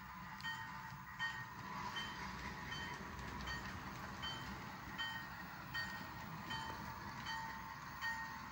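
A long cut of railway cars rolls past on the Okanagan Valley Railway, a steady low rumble with regular faint clicks of wheels over rail joints, heard alone without speech.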